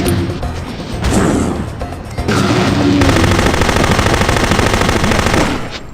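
Rapid automatic gunfire from the video game No One Lives Forever 2 rattles loud and close, with sharp impacts and crashes mixed in, rising to a dense, sustained burst before cutting off.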